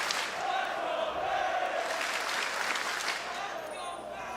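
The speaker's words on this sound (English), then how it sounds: "you hear the FaZe chants starting to get going" Esports crowd at the Call of Duty championship finals chanting for Atlanta FaZe in a large arena: a loud, sustained mass of voices and cheering that swells steadily throughout, under no distinct talk.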